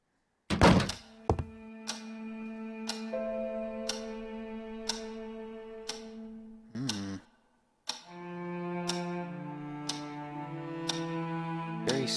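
A key unlocks and opens the front door of a house in the game Scratches, starting with a heavy thunk and a clack, then a loud clock ticking steadily over low, somber sustained music.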